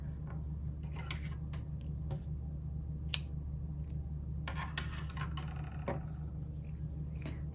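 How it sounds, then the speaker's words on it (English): Scissors cut through light pink crochet yarn in quiet, scattered snips and rubbing sounds over a steady low background hum, with one sharp click partway through. "I'm also going to cut the light pink yarn"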